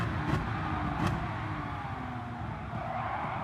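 An Aston Martin DP-100 Vision Gran Turismo taken into a corner at speed in Gran Turismo Sport gives a steady, dense engine roar, with two brief hissing bursts early on and no voices.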